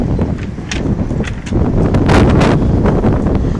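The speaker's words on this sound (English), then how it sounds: "feel that wind. Come on down, wind." Wind blows outdoors, buffeting the microphone with loud, rumbling gusts that swell and build toward the end. Faint rustling rides along underneath, and no talking is heard.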